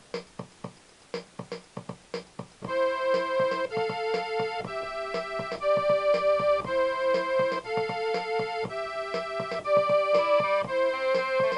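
A Yamaha PSR-3 portable keyboard's built-in rhythm plays crisp, evenly spaced drum hits alone at first, then continues in a steady loop with sustained chord tones layered on top.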